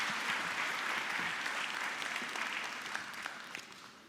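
Audience applause at the closing ceremony of CGIAR Science Week, a dense, steady wash of clapping from a large crowd that holds strong and then slowly tapers toward the end.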